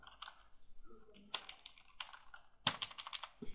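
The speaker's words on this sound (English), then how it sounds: "go to custom and type the format code now" Rapid, close keystrokes clatter on a computer keyboard while a format code is entered, with bursts of clicks under quiet talk.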